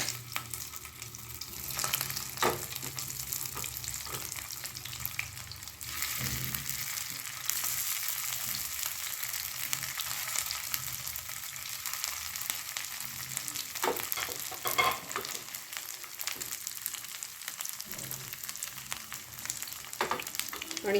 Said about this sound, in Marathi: यामध्ये आपण आता हे पॅटीस शालो फ्राय करून घेणार आहोत.